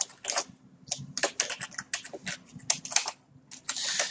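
Steady typing on a computer keyboard, with quick clusters of close key clicks, brief pauses and a final burst.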